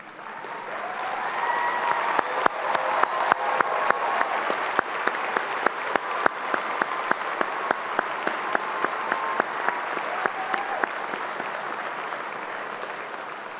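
A graduating class at a College of Liberal Arts commencement ceremony is applauded by the audience: dense, continuous clapping from a large crowd in a hall that swells and holds steady, with a few sharper claps standing out.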